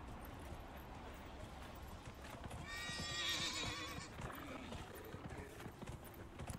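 A horse whinnies in a rising, trembling call while hooves clip-clop continuously in the background, in the video game Dragon Age: Inquisition.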